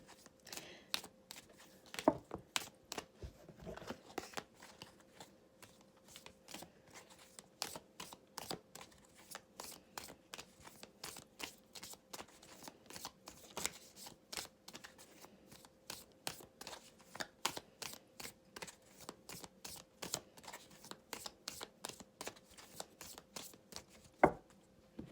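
An oracle deck of guide animal cards is shuffled steadily for a long stretch, a continuous run of quick riffling flicks, close but soft, with no talking.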